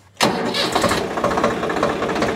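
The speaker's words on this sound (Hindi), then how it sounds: "अब मैं सबसे पहले आपको ट्रैक्टर की स्टार्टिंग दिखाता हूँ ट्रैक्टर की आवाज़ सुनवाऊंगा" A tractor engine cranks briefly and then catches, settling into a loud, steady diesel run with a rough, knocking rhythm; no voices are heard.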